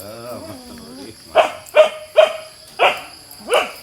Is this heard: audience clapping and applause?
no